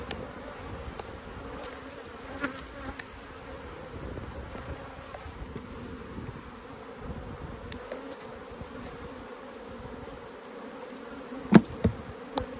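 Honey bees buzz steadily around an open hive during an inspection, a dense continuous drone with a few brief knocks of hive equipment near the end.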